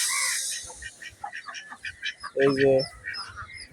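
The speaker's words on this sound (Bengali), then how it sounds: "এই যে হাঁস" Several nasal quacks from ducks close by, with a person talking intermittently in the background.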